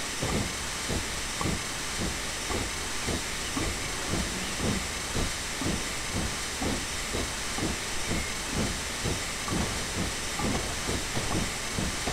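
A steam locomotive reversing into a siding in Train Simulator 2012 chuffs in a steady, even rhythm with a constant hiss of steam underneath, close and loud, with no voices.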